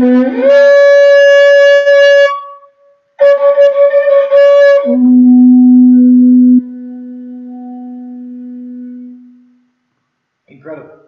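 A long animal horn blown loudly in several sustained notes, stepping between pitches with pauses, ending in a low held tone.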